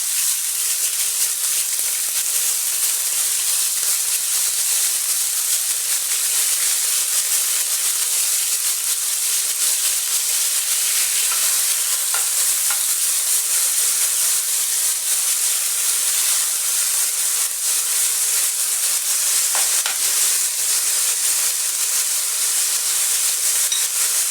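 Shawarma meat sizzles in a hot pan, a steady loud hiss of frying that holds evenly throughout with no talking.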